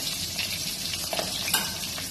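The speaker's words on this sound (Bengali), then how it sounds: "ভাজা হয়ে গেছে, তুলে নেবো। ইলিশ মাছের মোড়ো বেশি ভাজার দরকার হয় না" A hilsa fish head fries in hot oil with a steady, close sizzle and crackle, broken by occasional scraping stir sounds.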